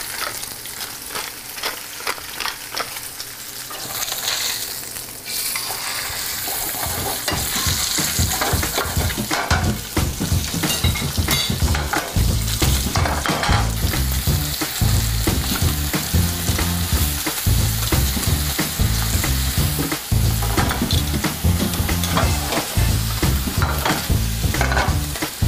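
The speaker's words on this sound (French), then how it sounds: "Ma poêle est très chaude, je peux cuire ma truite." Trout fillet frying in a very hot pan, a steady loud sizzle that swells into dense crackling and spitting grease, continuous with no talking.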